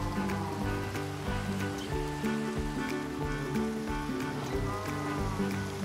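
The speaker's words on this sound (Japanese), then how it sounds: "うるさいなこの雨。" Continuous rain pours in Minecraft, a dense even patter that fills the background beneath melodic game music throughout.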